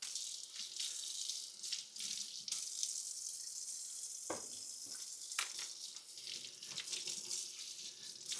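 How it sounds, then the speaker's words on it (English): Celery pieces rinsed under a running kitchen tap, the water hissing steadily into the sink with brief splashes and clatters as the stalks are handled, with no talk. "Of course, you got to rinse it off."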